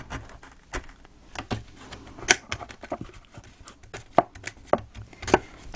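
Cardboard box side being cut away with scissors or a blade, a series of sharp snipping and crunching strokes at an irregular pace, close up, with light handling rustle between cuts.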